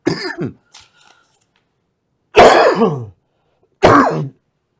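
Three rough coughs, each short and close, separated by silence, the first followed by a small throat noise.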